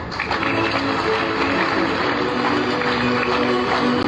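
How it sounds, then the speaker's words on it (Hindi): An audience at a defence exhibition applauding a guest, a thick, continuous wash of many hands clapping with a steady, dense texture throughout and no clear speech. "जरा जोरदार तालियां हो जाए दोस्तों"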